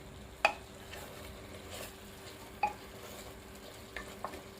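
Masala paste for Telangana-style spicy mutton curry is stirred as it fries in a pan, giving a few soft scraping strokes over a faint, steady sizzle, close and fairly quiet with no talking.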